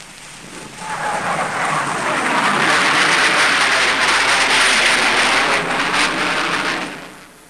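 Gloster Meteor jet fighters roar past at high speed, a broad rushing swell that builds within a second, holds loud and steady, then fades near the end.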